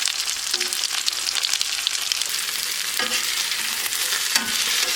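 Potatoes frying in a pan at a tent camp cookout, a dense steady sizzle with occasional stirring scrapes, close and continuous.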